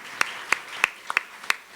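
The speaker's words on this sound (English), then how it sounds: "let's give them a big round of applause" Sparse clapping at a panel discussion on leadership, a handful of sharp separate claps in an uneven rhythm, close and fairly clear above a quiet room.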